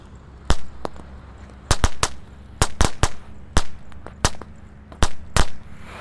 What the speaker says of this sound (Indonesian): Lanjut kita nyalakan di sini ada mercon tank tor guys